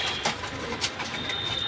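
Pet pigeons, including red patti, silver and duty birds, coo softly in short, faint calls against a low background hum, with no voices.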